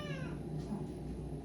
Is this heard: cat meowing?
yes